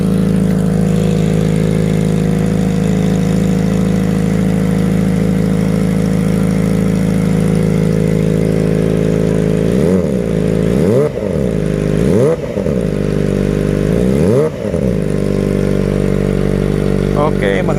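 Kawasaki Ninja ZX25RR 2023 motorcycle fitted with a Putra Jaya racing exhaust, idling steadily and loudly up close, then blipped through four sharp revs in quick succession before settling back to idle.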